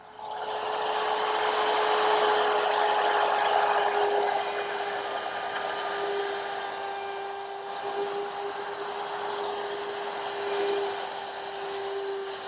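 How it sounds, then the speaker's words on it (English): A woodworking router fitted with a round nose bit plows material out of a wooden chest piece held in a cradle, producing a loud, sustained high whine with a steady pitched tone for several seconds. "now I'll just lower the router in and plow out the material"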